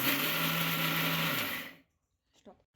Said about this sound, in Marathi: आता हे आपल्याला मिक्सरला एकदा फिरवून घ्यायचं आहे आणि बारीक करायचं आहे.